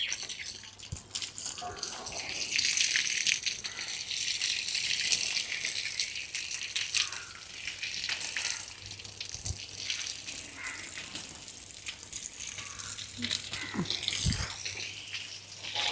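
Water is poured onto soil in village planting work, giving a continuous, moderately loud splashing rush with scattered rattles and a few soft knocks throughout.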